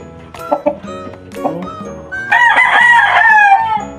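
A rooster crows loudly and close by, a long strained call rising into a sustained harmonic cry after some shorter clucking sounds and brief vocal noises at the start.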